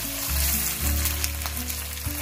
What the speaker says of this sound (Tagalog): We're going to sear our pork belly.